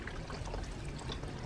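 Water pours into a Karcher SC3 steam cleaner in a soft, steady trickle, faint and continuous with no voices.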